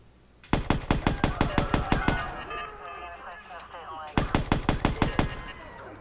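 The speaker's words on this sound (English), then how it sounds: "There's gunfire." Rapid automatic gunfire in the video game Watch Dogs rattles in two long bursts, with a pause and scattered voices and effects between them.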